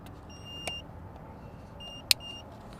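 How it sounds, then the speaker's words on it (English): A remote engine starter in a 2019-2021 Kia Forte (Cerato) with key ignition gives a few short, sharp electronic beeps after its power cable is connected. The beeps are faint and spaced apart over a low rumble. "You'll hear a few beeps and it's good to go."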